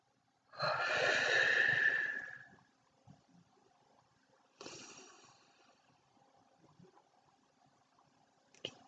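A deep, slow exhale during a breathing exercise: one long, close breathy rush lasting about two seconds, followed by a shorter, softer breath and quiet stillness.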